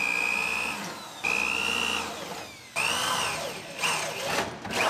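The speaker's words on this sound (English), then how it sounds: "Now we can drill out our spot welds." Power drill boring out spot welds on a rusty 1965 car's frame rails near the wheel well, three long whining drill runs with pitch shifts, close and alone.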